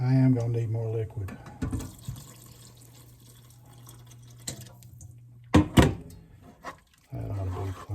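Liquid splashes and trickles into a pan of tortilla stroganoff in irregular bursts with quieter pauses between them, up close in a home kitchen.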